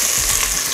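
Chopped onion hits hot oil in a pan alongside garlic for a soy sauce pork dish, giving a loud, close, continuous sizzle and crackle with a bit of stirring.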